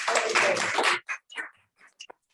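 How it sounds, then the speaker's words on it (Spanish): A roomful of people at a Spanish book presentation clapping: about a second of dense applause that stops abruptly, followed by a few scattered, quieter claps and small sounds. "un aplauso para"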